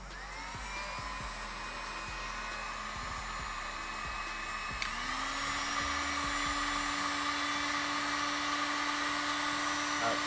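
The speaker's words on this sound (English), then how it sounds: "All right, so I have 2 heat guns now." Two heat guns run on an Anker 767 PowerHouse portable power station, giving a steady airy hair-dryer-like whir. Partway through, the second unit kicks in and adds a rising tonal hum, and the combined drone holds to the end.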